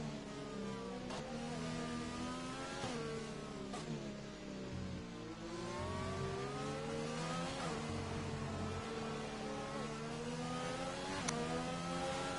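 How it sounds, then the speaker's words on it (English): Race car with wet-weather traction limits accelerating hard through the gears during a race in France, a continuous loud engine note rising in pitch several times with quick gear-change dips, steady and close with no talk. "Getting back up through the gears very quickly to allow maximum traction to be put down."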